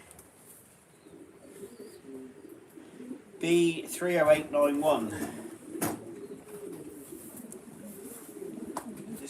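Racing pigeons coo softly and steadily in a loft, a low murmuring background under a man's nearby speech, with a brief sharp knock midway.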